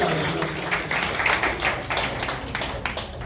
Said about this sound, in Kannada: ಅವ್ರಿಗೂ ದೊಡ್ಡ ಚಪ್ಪಾಳೆ ಬಂದಿದೆ